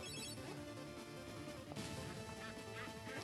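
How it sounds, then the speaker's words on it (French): Mini ducks quacking in the platformer video game Legend of the Brofist, short nasal quacks over busy game music and effects, with a brief crash partway through. "il y a des mini canards"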